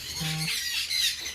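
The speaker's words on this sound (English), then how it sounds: "Here's our cockatoo." A cockatoo gives loud, harsh squawks at close range, a raspy screech spanning most of the moment with no talk.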